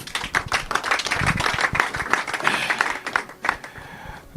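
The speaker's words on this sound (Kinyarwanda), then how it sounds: "Rero mwamuha amashyi Bishop." Applause for the Bishop at a civil wedding ceremony in Rusororo sector: a room full of guests clapping steadily and densely for about four seconds, close and fairly loud, with no voices over it.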